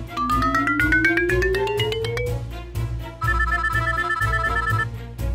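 A telephone rings loudly and nearby with a repeating electronic melodic tone, a rising trill pattern followed by a steadier sustained ringing phrase, with no voices over it.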